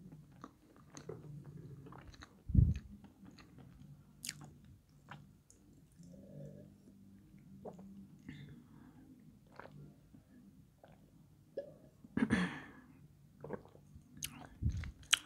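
Cherry cake being eaten up close, with soft chewing and squishing throughout and a few sharper bites near 2.5 and 12.5 seconds; quiet, close and intimate, with no talking.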